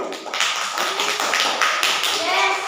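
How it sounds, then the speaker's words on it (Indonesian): Classroom applause for a student group, with close, quick clapping from several students and voices chattering underneath. "Beri tepuk tangan untuk kelompok 2 dulu."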